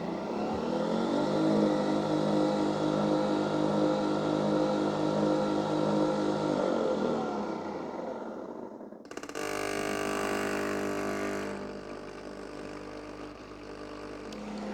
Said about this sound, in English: Now, as you can see, it started rinsing.